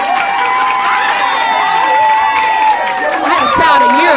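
Live-show audience clapping and cheering, a crowd roaring with whoops and shouts over scattered claps, loud and close, with excited voices rising toward the end.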